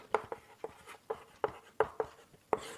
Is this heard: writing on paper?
yes